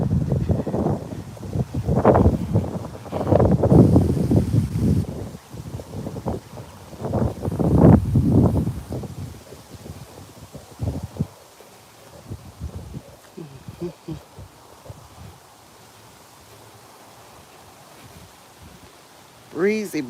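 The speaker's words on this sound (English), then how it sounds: "all I got to get out of this wind" Gusty wind buffets the microphone during an outdoor fitness walk, loudest in the first half and thinning to a soft hiss later, with a person talking over the rushing.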